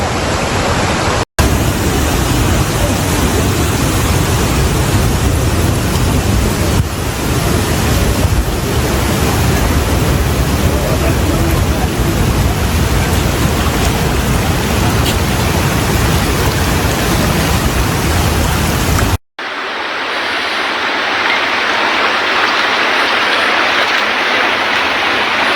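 Rushing flash flood water carrying mud and stones, a loud continuous roaring wash lasting about eighteen seconds, cut off abruptly and followed by a quieter, thinner ambient hiss.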